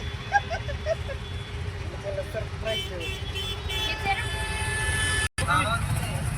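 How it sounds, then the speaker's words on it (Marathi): An auto rickshaw ride in a village setting, with a constant engine rumble and road noise throughout and a few short horn toots in the traffic, while people talk faintly in the background. "आता बसला आम्ही रिक्षेत पडे गावच्या जाऊ"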